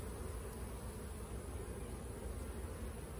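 A steady, dense insect buzz fills the clip, a continuous hum of many bees close by with no pauses.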